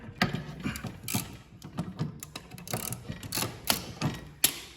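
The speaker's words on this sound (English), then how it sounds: "3/8 socket to take this off" Ratchet and 3/8 socket working a bolt on the mower deck of a John Deere X300 series riding mower, giving a steady run of close, sharp clicking strokes across the whole stretch.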